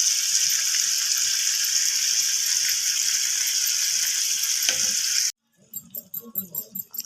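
Chicken karahi mixture poured into a hot pan, with a loud steady sizzle that holds for several seconds, then cuts off into quieter crackling and stirring clatter close by.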